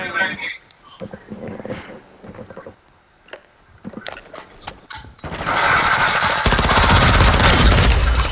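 Rapid automatic gunfire rattles in Call of Duty: Modern Warfare II during a search and destroy match, first as scattered sharp shots, then a loud sustained burst over the final few seconds.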